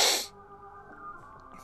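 One sharp, loud sneeze that bursts out and cuts off quickly, followed by quiet background hum.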